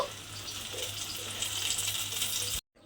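Pointed gourd frying in oil until reddened, with a quiet, steady crackling sizzle nearby that cuts off abruptly near the end, and no talking.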